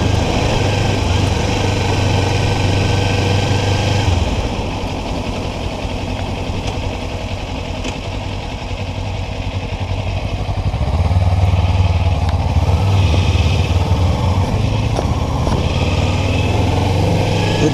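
A Kawasaki Ninja 300 or 400 motorcycle rides along with a steady engine drone and wind noise, the low engine note dropping and then rising again as the rider shifts up into third gear through a turn.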